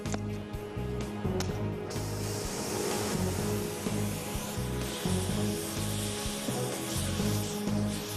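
A torch heats a metal tail-boom bracket for a helicopter build so it can be bent, giving a steady roaring hiss with a low drone underneath, continuous and moderately quiet with no talk.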